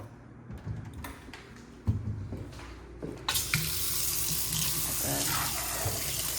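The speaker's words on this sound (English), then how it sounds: "Telescoping faucet there" A telescoping kitchen faucet in an apartment gushes into the sink, a steady, fairly loud rush of water that starts a few seconds in after some soft handling clatter and keeps running.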